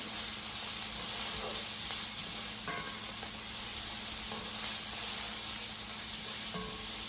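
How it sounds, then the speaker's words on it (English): Peppers sizzle steadily in a pan on medium-high heat with a dense, even hiss, punctuated by occasional faint clicks and taps. "now we'll go in with our peppers. And I have the pan on medium-high"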